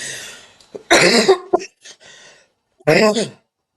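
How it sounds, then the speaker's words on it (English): A few rough, guttural throat-clearing bursts from one person, close up, separated by short pauses and some quieter breathy sounds. "Let me clear my throat."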